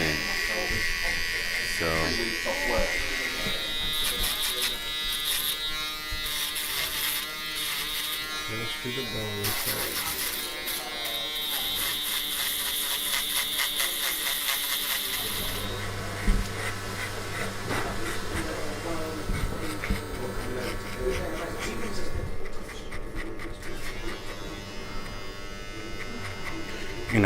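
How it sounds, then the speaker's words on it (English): Electric hair trimmer cutting a fade, a continuous close buzz that changes pitch and texture as it moves over the head, with a barber talking over it throughout. "I'm using the trimmer because I'm gonna use the foil"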